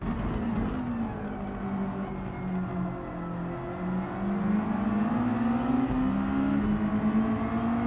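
Race car engine in Gran Turismo 7 holds a steady loud drone, its pitch sliding down and climbing again as it brakes for corners and accelerates through a sweeping left, continuous and close with no talk.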